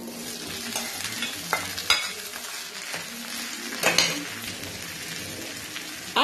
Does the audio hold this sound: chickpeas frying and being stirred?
yes